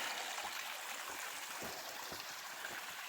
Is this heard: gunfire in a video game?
no